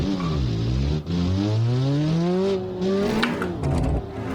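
BMW E30 M3 US-spec convertible in BeamNG.drive, its engine revving and climbing steadily in pitch as it accelerates, loud and continuous with a brief dip near one second and tire noise toward the end.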